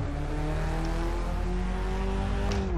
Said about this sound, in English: Sound of this Volkswagen Beetle mod though